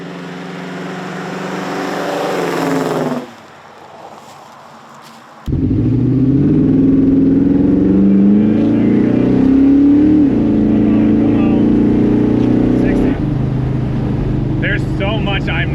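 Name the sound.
600 horsepower big block Chevrolet C10 squarebody truck engine accelerating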